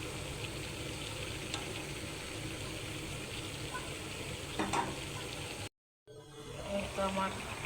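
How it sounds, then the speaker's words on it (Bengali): Chinese vegetables with chicken cooking in a pan, a faint, steady sizzle and hiss that cuts out briefly and then returns with light clinks. "এই তো চাইনিজ সবজি রান্না করতেছি"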